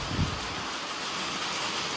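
Light first monsoon rain falls steadily in a village as a soft, even hiss, with no voices.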